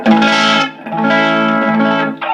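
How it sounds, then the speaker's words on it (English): Electric guitar through an amp's distortion channel with gain set very low, giving a still fairly clean, lightly overdriven tone: two sustained chords ringing loud and close, a short gap between them, then a brief third strum. "So now I'm going to go to the distortion channel, bam, and I have it set up with the gain very low."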